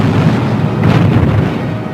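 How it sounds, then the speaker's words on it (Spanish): Dramatized Battle of Waterloo artillery cannon fire: a loud, dense rumbling barrage of booms blending into a continuous roar. "hay un cruce tremendo de cañonazos"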